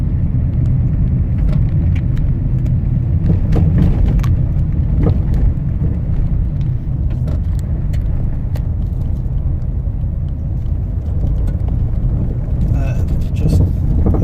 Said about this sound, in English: Border Patrol vehicle approaching from my right here.